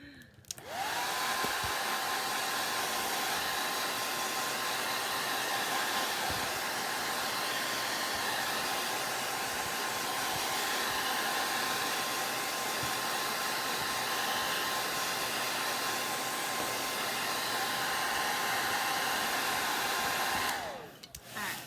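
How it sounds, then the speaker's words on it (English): A blow dryer roars steadily at close range for about twenty seconds, a constant loud whooshing hum with a faint whine, starting and stopping abruptly. "I'm gonna hit this with the blow dryer real quick"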